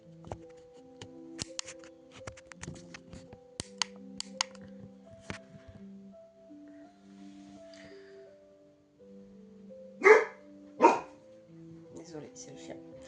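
A house dog barks twice, loud and close, cutting sharply through quiet indoor room tone that has faint tapping and humming. The barks come late in the stretch.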